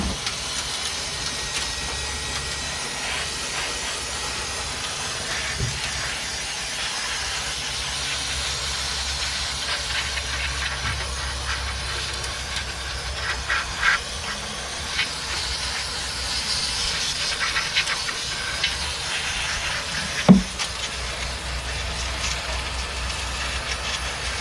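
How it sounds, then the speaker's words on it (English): Lucas Oil brake cleaner sprays across the rear brake assembly of a Mercedes-Benz W212. It is a continuous breathy hiss that runs throughout, broken by a few faint clicks and one sharp knock near the end. No one speaks. "Just gonna wash this entire brake assembly with some brake cleaner from my friends over at Lucas Oil Products."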